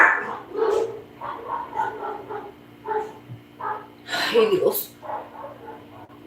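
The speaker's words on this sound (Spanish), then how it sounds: "escucho todos los perros en la calle y me ponen de nervios" Dogs bark out in the street in scattered bursts, some sharp and some whimpering, at a middle distance while someone talks and sighs close by.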